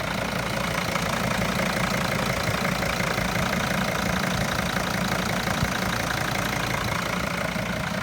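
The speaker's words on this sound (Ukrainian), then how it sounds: "Отак заводиться, от працює моторчик." Steady, close diesel idle of a 2002 Mercedes-Benz Sprinter 316 CDI 2.7 passenger van, a constant low rumble with a knocking clatter running unchanged throughout, no voices.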